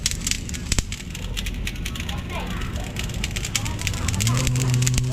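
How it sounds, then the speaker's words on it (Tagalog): Wood fire crackles and pops steadily while tilapia grills over it, with faint voices in the background and a brief low hum near the end. "Kailangan todo lagi ang apoy."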